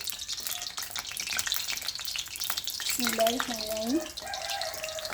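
Samosas fry in hot oil in a kadai, giving a dense, even sizzle close by. A brief voice briefly sounds over the frying partway through.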